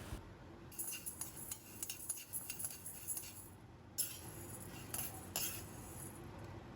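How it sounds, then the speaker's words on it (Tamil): Chana dal roasts in a pan while a spoon stirs it, producing soft, irregular scraping and clinking strokes against the pan with a short pause midway. The sound is fairly quiet and close, with no voices. "கடலைப்பருப்பு நல்லா வறுத்தாச்சு."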